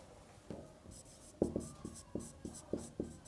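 Chalk or pen scratching out handwriting on a board during an electrical circuits lecture, a quiet series of short, sharp strokes with brief pauses between them, close and alone.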